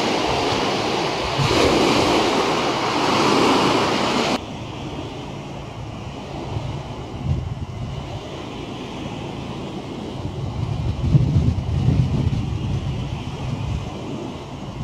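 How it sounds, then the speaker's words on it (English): Ocean waves washing continuously with gusty wind buffeting the microphone, heard from a ship's railing, a steady rushing roar with no voices. "so you can hear the waves"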